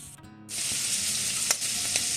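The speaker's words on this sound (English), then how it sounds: "I've already got the ground beef cooking, onion sauteing." Ground beef browning and onions sautéing in a pan on the stove give a steady broadband sizzle that starts suddenly after a brief quiet moment, with a couple of faint clicks from stirring near the end.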